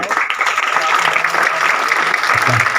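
A burst of applause from an audience at a village award ceremony, steady clapping filling the whole moment with a busy crowd texture.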